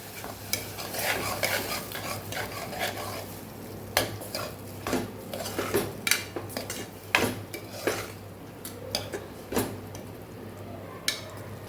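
Kantola curry being stirred with a little water in a pressure cooker, a ladle scraping and knocking against the metal pot in irregular strokes over a low sizzle, close and without speech.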